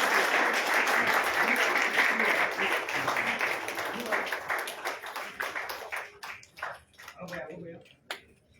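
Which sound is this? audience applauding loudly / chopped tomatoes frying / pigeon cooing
audience applauding loudly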